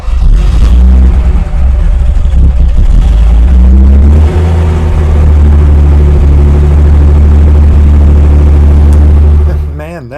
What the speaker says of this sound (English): And now I can start the car.